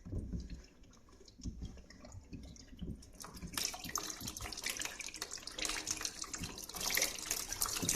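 Water trickles and drips at first, then gushes out of a water softener filter housing in a louder, splashing stream, fairly close with no talking.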